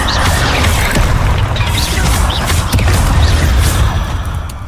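A Bombarda blasting spell going off in Hogwarts Legacy, with loud booming impacts and crashing bursts layered over a dense rumble, several hits in quick succession.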